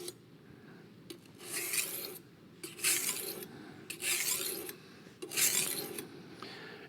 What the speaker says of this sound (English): Again, turning your stone. And again, you hear a very distinct difference between the grits.